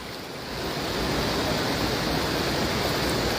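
Water rushes out in a steady, loud, continuous broadband flow, building up over the first half second and then holding constant, close by, with no voices.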